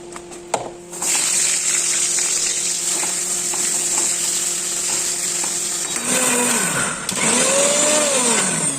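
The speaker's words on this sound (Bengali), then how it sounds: "সর্ষেটাই আর ভেজে নিলাম আর এখন মিক্সিতে পেস্ট করে নেবো" A mixer grinder whirring loudly and continuously as it grinds fried mustard seeds into paste, with a brief start-up rattle and the motor pitch shifting near the end, no voices.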